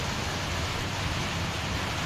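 Rain falls outdoors as a steady, even hiss of drops with no breaks, heard alone without voices.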